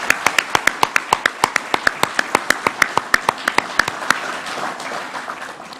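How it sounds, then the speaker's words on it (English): Audience applause for singers at an Australia Day celebration in Ballina Shire, led by sharp, evenly spaced loud claps close by over softer crowd clapping, thinning out toward the end. "Give them another big round of applause."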